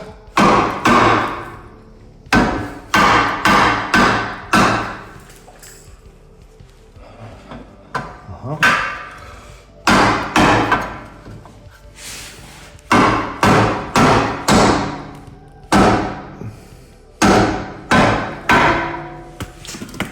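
Repeated sharp metallic hammer blows driving a CV axle into the steering knuckle of a 2014-or-later third-generation MINI Cooper, struck in quick clusters of three to five hits with short pauses, loud and close in a workshop, no voices.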